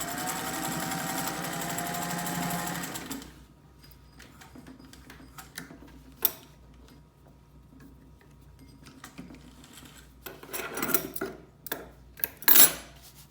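A Singer 201-3 sewing machine stitching through a piece of fabric gives a steady, even mechanical whir for about three seconds, then stops, leaving quiet with scattered clicks and handling knocks toward the end.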